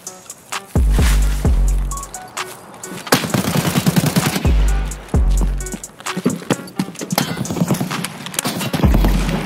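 AK-74M rifle fire in the video game Escape from Tarkov, loud and close, with heavy single shots and short rapid automatic bursts spread irregularly across the clip, with echoing tails between them.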